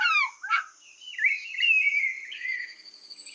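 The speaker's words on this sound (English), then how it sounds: "P is for parrot." Parrot calling with a series of shrill, warbling whistles and squawks, some sliding up and down in pitch, close by with short gaps between calls.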